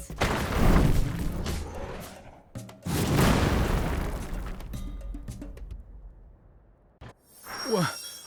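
Two huge booming blasts of cannon fire in the video game Sand Land roll out one after another with long rumbling tails, followed by a brief voice near the end.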